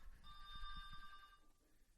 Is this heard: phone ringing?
yes